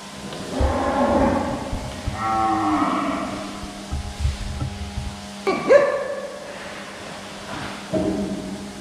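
Brahman cattle moo repeatedly at close range on a farm, long low bellowing calls with short gaps between them and a sharper final call near the end; no talking.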